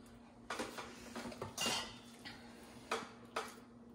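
A metal spoon scrapes and taps ricotta in clumps onto a lasagna in a baking dish, giving several separate clinks and scrapes of cutlery against the pan, fairly close and quiet, with pauses between dollops.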